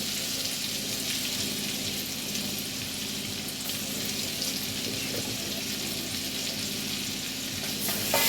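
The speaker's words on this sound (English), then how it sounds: "I am going to add 1/4 stick of butter." Salted butter sizzles and crackles steadily in a pan for bacon mac and cheese, a close, continuous hiss with no talking.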